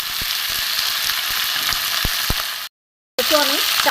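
Black cumin and garlic frying in oil in a pan, with a steady loud sizzle and scattered pops, then a brief cut to silence before a voice speaks over renewed sizzling.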